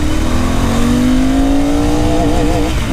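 A Royal Enfield Continental GT 650 motorcycle accelerating hard, its engine note climbing steadily in pitch through a rising rev. Loud and close throughout, with a constant roar and no talking.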